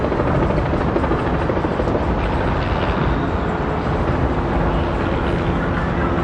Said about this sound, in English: I think the helicopter noise is drowning it out right now.